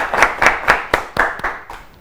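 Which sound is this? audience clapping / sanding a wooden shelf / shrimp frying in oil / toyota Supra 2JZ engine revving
audience clapping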